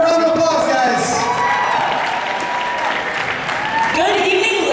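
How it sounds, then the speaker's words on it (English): Audience at a Boston Bhangra show applauds and cheers as a performer walks out, with dense clapping, shouts from the crowd and a host's voice over the noise. "Let's give her a round of applause, guys."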